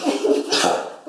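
A Dalmatian dog gives a short, harsh cough with a choking edge, one burst lasting about a second, close and fairly loud, with no talk over it.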